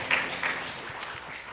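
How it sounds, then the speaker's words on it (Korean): A small congregation at a Sunday morning church service claps in welcome. The applause is brief and soft, with a somewhat distant, thin patter. "박수로 환영합니다."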